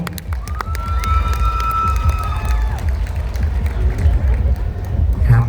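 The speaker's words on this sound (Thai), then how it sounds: "ขอเสียงปรบมือให้กับน้องๆอีกสักครั้งครับผม" A crowd at a Thai school luk thung singing contest claps and cheers steadily over the full stretch, with whistles and voices mixed into the noise.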